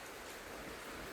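Steady evening rain hisses in a soft, even wash, faint and distant with no distinct drops or other sounds.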